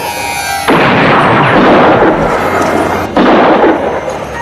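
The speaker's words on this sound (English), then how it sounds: "He shoots again and hits Cole's ear." A gunshot rings out in a western film, a loud, harsh blast that rolls into a long, noisy rumble, then a second sharp burst follows about two and a half seconds later.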